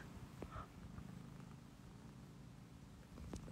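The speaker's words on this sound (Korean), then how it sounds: "고양이가 코 골고 있어요" A sleeping cat snores and purrs softly close by, a low steady rumble running through the whole stretch with a couple of faint breathy catches, and no talking.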